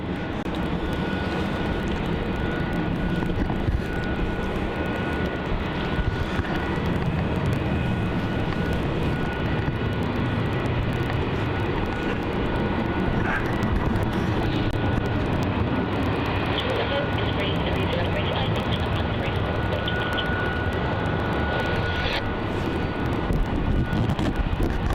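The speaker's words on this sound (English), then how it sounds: "Departing there on runway 27, we have the Virgin Australia 737 going off to Perth" A Virgin Australia Boeing 737 departs runway 27 at Melbourne Airport, a long, continuous, fairly loud jet engine rumble and whine that stays steady from start to finish, with faint voices now and then.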